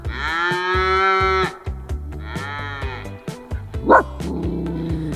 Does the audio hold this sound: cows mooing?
yes